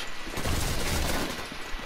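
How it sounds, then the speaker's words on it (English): Rapid assault rifle fire in Sniper Elite 4, a dense, sustained burst of shots that blur together into a continuous rattle lasting most of the moment, fairly distant and muffled. "I'm definitely gonna shoot him in far range with an assault rifle"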